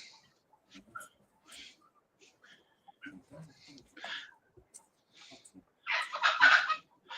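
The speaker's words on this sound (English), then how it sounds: "Excuse the chickens and the turkeys you hear in the background." Chickens and turkeys call intermittently in the background of a farmyard, short clucks and gobbles scattered across the clip with a louder burst of squawking near the end, with soft speech-like sounds.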